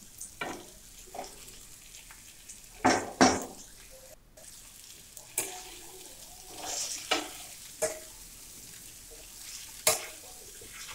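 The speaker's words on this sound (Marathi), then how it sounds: "पाच मिनिट फ्राय करून घ्यायचे आहे।" Poha fries in a pan with a soft sizzle as a spatula scrapes and clatters against the metal in irregular bursts, the sharp stirring strokes standing out close and loud over the quieter frying.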